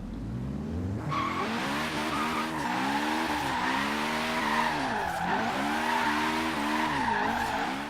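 A turbocharged Honda S2000 drifting and spinning out in Forza Horizon 3: a loud, sustained tire squeal over a revving engine whose pitch rises and falls, continuous and close for several seconds.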